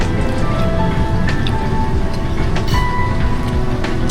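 Light drizzle patters steadily on surfaces outdoors, a soft continuous hiss of fine drops with occasional small ticks, fairly close and unbroken throughout, no speech.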